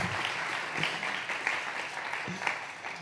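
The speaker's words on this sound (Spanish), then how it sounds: "muchas gracias por los aplausos" Audience applause at a presentation, a dense steady patter of many hands clapping close by throughout, with faint voices mixed in.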